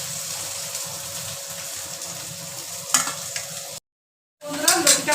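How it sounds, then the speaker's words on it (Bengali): Taro stolons (lati) frying in a wok give a steady close sizzle with scraping stirs and a brief louder burst, a short dead gap, then the frying and stirring return louder. "বন্ধুরা লতিটা ভাজা ভাজা হয়ে এসেছে,"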